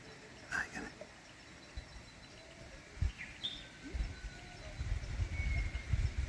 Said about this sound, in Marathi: ऐकताय पक्ष्यांचा आवाज